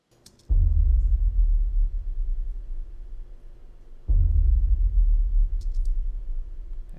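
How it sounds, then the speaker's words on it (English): Two deep, booming low percussion hits in an orchestral trailer-style track, each a heavy thud that rings out and slowly decays, spaced about three and a half seconds apart, subtle and rumbling beneath quiet sustained tones. "low percussion hits."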